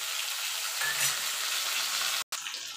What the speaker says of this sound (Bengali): এবার আলুটাকে আমি একটু লাল লাল করে ভেজে নেব।